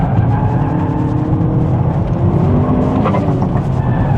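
A 430hp Ford Focus ST races on a track, its engine a steady, loud droning roar that holds a constant pitch throughout, with a brief rise in revs near the end and no voices.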